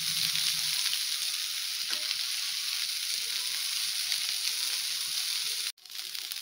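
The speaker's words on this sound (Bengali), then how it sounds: "দেখুন এরকম লাল লাল করে ভাজা হয়ে গেছে।" Cauliflower frying in oil until reddish gives off a continuous close sizzle. A brief clatter and a short drop near the end suggest the pan being handled, and no one speaks.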